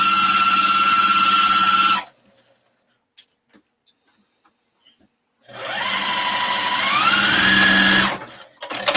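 Sewing machine back stitching a fabric shopping bag, running in two steady bursts separated by a quiet pause, with the motor pitch rising as the second burst speeds up.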